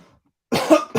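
After a near-silent start, a man coughs twice, close and loud: a harsh, throaty burst followed by a shorter second cough.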